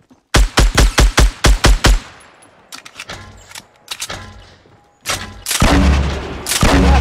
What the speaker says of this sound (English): I took the little machine gun.